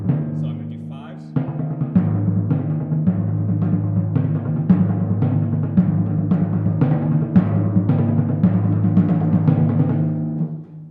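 Timpani rolled in steady five-stroke groupings, with sustained low pitched drum tones that shift pitch while soft repeated strokes pulse evenly through a continuous, moderately loud roll lasting about ten seconds.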